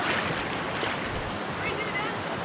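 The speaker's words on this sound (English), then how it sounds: "So we got a waterfall up there. Some nice water down there." Rushing water at a cold, knee-deep river crossing below a waterfall on a mountain trail during a 50K race, a steady broadband roar filling the whole moment with wind buffeting the microphone.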